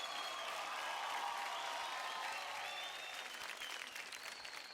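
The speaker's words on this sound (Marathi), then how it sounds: "आपल्या सगळ्यांना आपल्या बहिणींसाठी जोरदार टाळ्या होऊन जाऊ द्या" Loud, sustained applause from a dance-show studio audience, a steady wash of clapping that holds for several seconds and eases slightly toward the end.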